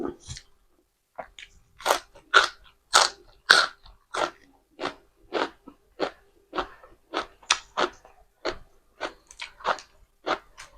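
Someone eating shrimp close up, with crisp crunchy bites and wet chewing in a steady irregular rhythm, a dozen or more distinct crunches against quiet silence.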